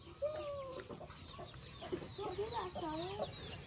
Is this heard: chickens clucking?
yes